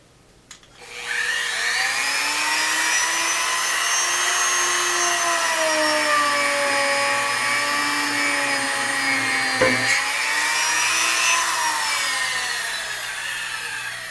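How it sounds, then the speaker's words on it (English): A power drill bores through an oven-baked polymer clay bead, a steady whining motor hum running close and loud for about thirteen seconds after a brief start, with no talking. "that drills perfectly straight through"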